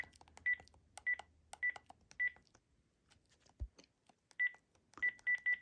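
Beeping keypad tones from a Panasonic KX-PRS120 phone while a speed dial is edited: short, clear electronic bleeps pressed one at a time in an irregular rhythm, close and alone, ending in a quick run of three.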